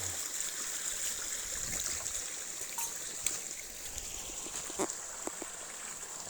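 A stream of flowing water runs steadily outdoors, a continuous near rushing with a few faint knocks and clicks scattered over it.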